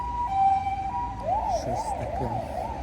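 A wailing ambulance siren passes along a city street, rising and falling over steady traffic rumble, fairly close and loud for a few seconds with no talk over it.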